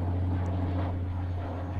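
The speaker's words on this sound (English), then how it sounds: "Got aeroplanes flying over this" A steady, continuous aircraft drone hangs over the grounds of All Saints church in Hitcham, Suffolk, a broad engine rumble that neither rises nor fades, with no voices.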